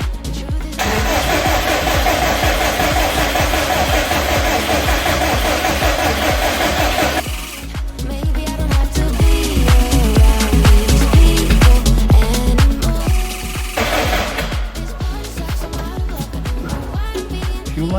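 Subaru WRX engine being cranked after a rebuild: a loud, continuous starter-motor churn up close, a brief pause, then more sustained cranking with no clear catch.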